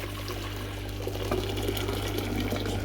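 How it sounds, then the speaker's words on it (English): Hot water poured into a beaker during gold refining of jewelry, a steady watery fill with a low constant hum beneath it, continuous for about three seconds. "So now I'll put some more hot water in."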